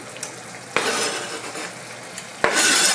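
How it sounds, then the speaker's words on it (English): Chopped onions drop into a new pan of browning hamburger and are stirred in, two sharp scraping clunks of utensil on pan followed each time by bursts of sizzling frying that keep hissing between them. "Now, let's put the onions in."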